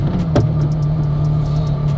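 A tuned Porsche Carrera GT engine idles and rumbles with a low drone, briefly blipping once near the start, close by with no voices.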